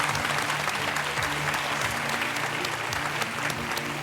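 A French game show studio audience applauds contestant Claude with loud, dense, sustained clapping that fills the whole stretch evenly, with a faint voice underneath.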